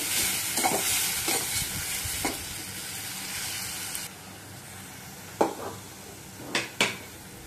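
Fried onions and spices sizzle steadily in a hot pan for a fish curry, a loud hiss through the first half that eases off, with a few sharp clinks of a utensil against the pan toward the end.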